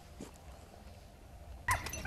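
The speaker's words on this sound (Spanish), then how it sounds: "Se empiezan a ver los primeros perros saliendo hacia el puesto." Hunting dogs on a Spanish montería for wild boar and deer give faint, distant yelps over low outdoor background noise, with a sharper bark near the end.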